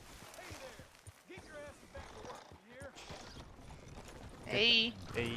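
Horse hooves clopping as a premium horse pulls a cart in a ranch roleplay video game, soft intermittent steps mixed under a person talking, with a louder burst near the end.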